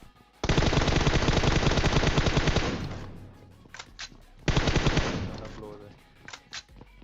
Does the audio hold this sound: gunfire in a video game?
yes